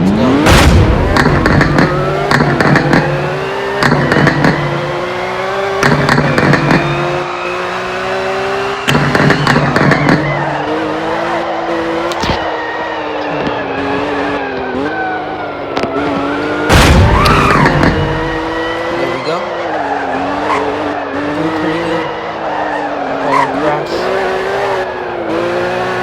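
Porsche racing on a track in the video game Driving Empire, a loud revving engine climbing through gears with tire squeals and sharp backfire pops, with a voice talking over it.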